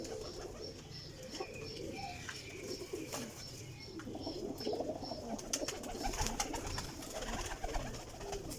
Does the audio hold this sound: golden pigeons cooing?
yes